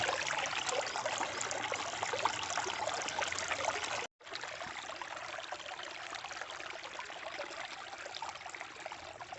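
Steady babbling trickle of a spring-fed stream at the foot of the Western Ghats, continuous and fairly close, with a brief cut partway through before the flow resumes.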